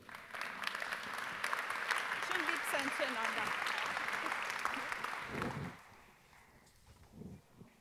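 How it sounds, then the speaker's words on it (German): An audience applauds at a business talk on summer tourism success factors, a dense wash of clapping that fills most of the stretch and then fades out, leaving a quieter tail with a few stray sounds. "Einen Applaus bitte."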